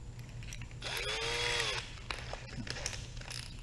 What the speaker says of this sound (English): we need to pilot drill that a little more